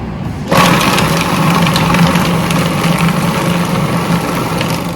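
A food processor blitzes a chickpea and butternut squash mixture, its motor kicking in abruptly after a brief pause and then whirring loudly and steadily without a break.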